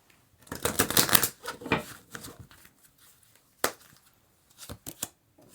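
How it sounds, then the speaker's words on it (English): Tarot cards being drawn from a deck, a burst of papery riffling and shuffling followed by scattered separate card snaps and slaps, close and crisp with quiet gaps between. "We're going to pull 4 cards,"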